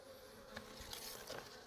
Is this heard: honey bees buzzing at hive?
yes